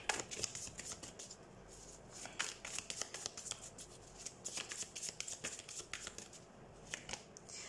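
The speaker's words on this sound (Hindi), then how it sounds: "सबसे पहले हम कार्ड शफल कर लेते हैं कैप्रिकॉर्न।" Tarot cards being shuffled by hand, a steady run of quick, soft riffling flutters and slaps, close and fairly quiet, with no talking.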